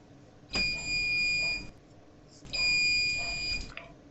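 Two slow electronic beeps from a saline monitoring and controlling device signalling it is ready, each a steady tone about one second long separated by a pause, clear and close.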